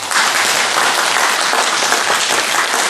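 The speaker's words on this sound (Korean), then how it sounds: "안 그런 사람 박수 한번 쳐보세요" A temple audience at a Buddhist Lotus Sutra lecture bursts into loud, sustained applause, dense clapping from many hands filling the room without pause.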